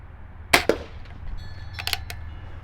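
A modified Crosman 2100 pump air gun fires at cans outdoors: one sharp crack with a quick second report, then fainter metallic pings a moment later, over a low steady background hum.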